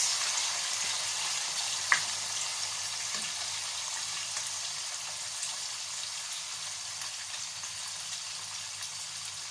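Smoked mackerel fries in hot oil in a pan over a lowered flame. A steady, soft sizzle and hiss runs throughout, with one sharp pop near the start.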